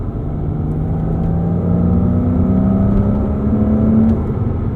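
A 2005 Porsche Boxster S with a manual gearbox, its engine droning steadily and building in revs, a loud close-up rumble with rising tones that hold through to the end.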